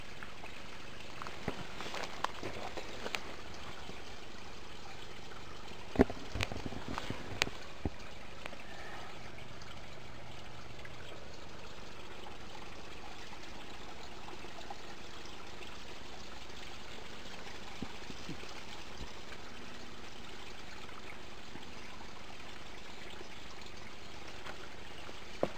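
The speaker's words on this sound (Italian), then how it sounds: "Adesso può sentire l'acqua che scorre." Water flowing steadily through an abandoned village, a continuous soft rushing trickle at low level, with occasional faint knocks and footsteps and no talk.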